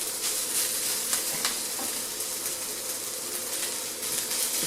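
Close, loud, continuous sizzling of fried rice in a hot pan, a dense hiss with occasional scraping stirs, no voices over it.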